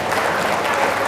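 An audience at an Islamic lecture gives a short burst of dense, steady applause for a speaker, loud and close, a uniform wash of many clapping hands.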